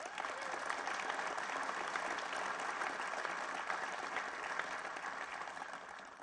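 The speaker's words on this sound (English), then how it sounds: "give yourselves and your unions a round of applause" Steady applause from an audience of union workers at a hydrogen hub announcement, a dense, even wash of clapping that holds for several seconds without letting up.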